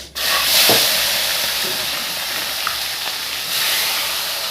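Dried chili, ginger, cumin, cardamom, cinnamon and tomato fry in a pan for a jackfruit curry. A loud, sudden hiss erupts and then settles into a steady sizzle with faint stirring. No one speaks.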